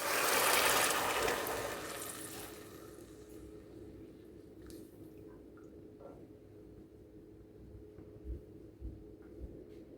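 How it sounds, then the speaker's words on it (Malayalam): Water poured from a cup into semolina for kneading dough, a splashing pour at the start fading into faint wet squishes and drips. "ആവശ്യമുള്ള വെള്ളം ഇതിലേക്ക് ഒഴിച്ച് കൊടുക്കുകയാണ്"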